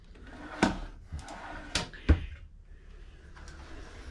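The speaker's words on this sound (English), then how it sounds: "Lots of drawers here." Drawers in a tiny house with built-in cabinetry sliding open and shut, giving a few sharp wooden knocks and scrapes spaced out over a few seconds in a quiet room.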